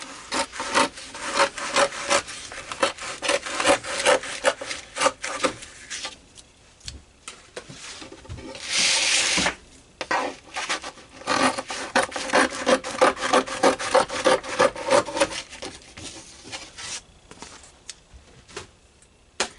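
Canvas being cut for stretching over a wooden stretcher frame, a series of close, rhythmic rasping strokes and scraping bursts with brief pauses between them, no voices.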